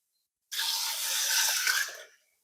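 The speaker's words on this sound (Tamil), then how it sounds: "நல்லா வதங்கிட்டு தண்ணி ஊற்றுவோம்." Water pours steadily into a cooking pot for chicken biryani, a close splashing stream that starts abruptly and runs for about a second and a half before tapering off.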